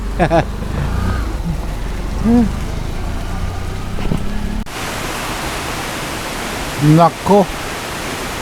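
Heavy rain pours in a dense, loud broadband roar that shifts in texture partway through, with a voice speaking briefly over it at the start and again near the end.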